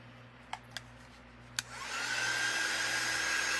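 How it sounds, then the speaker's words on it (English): A heat gun switched on to dry paint on craft tags, starting after a few faint clicks and settling into a steady, fairly quiet blowing hiss that keeps running. "I'm going to make sure that my heat gun is on. Let's dry this up."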